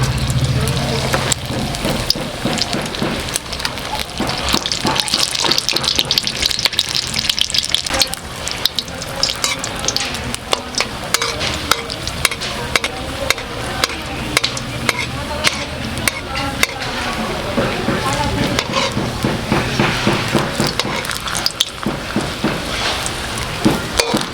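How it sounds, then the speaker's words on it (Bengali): Batter-coated chili chops frying in hot oil, a continuous loud crackling sizzle with bubbling and occasional stirring clatter throughout, no speech. "লঙ্কাটা মাখিয়ে নিলাম, এবার তেলে ছেড়ে দেবো।"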